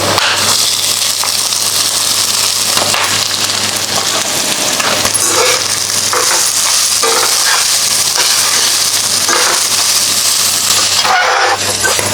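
Grated coconut with coriander seeds, cumin and fennel is stirred and dry-fried in a pan, giving a steady, close sizzle with scraping stir strokes throughout.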